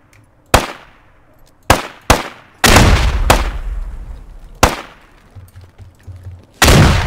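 Several sharp gunshots ring out in the military shooter game Squad, loud and close, spaced irregularly with echoing tails and one longer rumbling burst mid-sequence.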